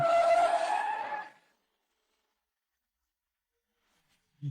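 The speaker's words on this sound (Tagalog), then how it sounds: "Hindi ba't nasagasaan ako ng sasakyan?" Car tires skid and screech loudly for about a second before cutting off abruptly, leaving near silence and a brief low thump at the very end.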